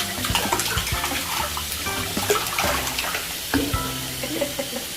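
A dog paddles and splashes in bath water on bath day, continuous sloshing and dripping with scattered splashes, close by, no voices heard.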